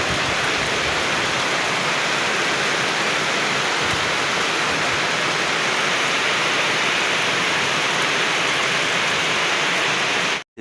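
A downpour of heavy rain roars steadily for about ten seconds, a loud, uniform wash of drops, then cuts off abruptly at the very end.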